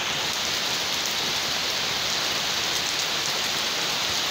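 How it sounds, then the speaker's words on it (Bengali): Heavy rain pours steadily during a late-morning storm after a spell of 42-degree heat, a dense, even hiss of rainfall close by with no voices. "অবশেষে তারপরে বৃষ্টি আসলো।"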